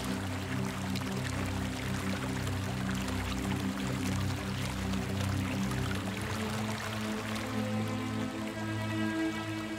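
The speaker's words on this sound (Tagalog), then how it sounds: "Nandito na tayo sa batis ng katotohanan." Flowing stream water, a steady close rushing and pouring wash that continues without a break, with a low tonal hum underneath.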